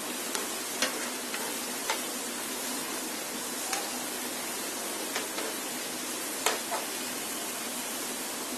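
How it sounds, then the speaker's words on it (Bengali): Crispy egg fries frying until golden brown, a steady broadband sizzle throughout with occasional louder pops and crackles, close and continuous with no voices. "গোল্ডেন ব্রাউন কালার করে ভেজে নিতে হবে"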